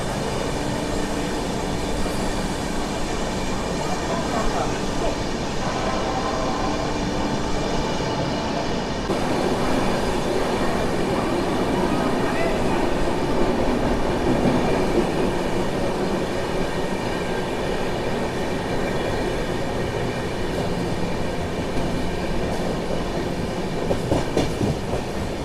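The 12622 Tamil Nadu Express from New Delhi to Chennai running through Mathura Junction without stopping, a continuous loud rumble of wheels on rails with steady clatter and a faint squeal, no talk.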